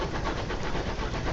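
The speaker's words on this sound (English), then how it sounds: "Our little engine chugging along." A small starter ship engine in the game Sunless Skies chugs along with a steady, rumbling pulse, continuous and fairly close, with no voices over it.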